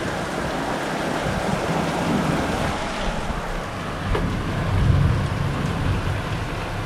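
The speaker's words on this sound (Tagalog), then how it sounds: "Sobrang lakas ng ulan." Heavy rain pours down in a steady, dense roar that fills the whole stretch, with a slight swell near the end and no voices.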